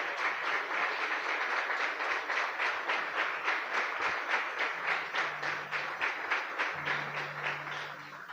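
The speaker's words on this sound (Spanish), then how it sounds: "Dale fuerte ese aplauso al Señor" A church congregation claps loudly and steadily through the whole stretch, a dense rhythmic wash of hands with a faint low hum underneath.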